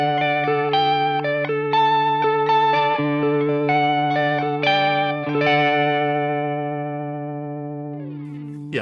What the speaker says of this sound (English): So that's drive before Uni-Vibe, giving us a more stereo field.